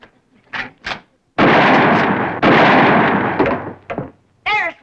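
Two loud, sharp gunshots from a rifle fired at a telephone wire, each a broad booming blast, separated by a short pause, with bits of talk around them.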